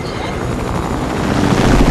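A helicopter in the video game Fortnite passes overhead, a steady rotor drone that thickens and grows louder toward the end as it comes closer.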